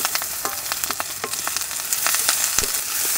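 Onions fry with green chillies and curry leaves, giving a bright, crackling sizzle. Repeated scraping stirs sound close and fairly loud throughout.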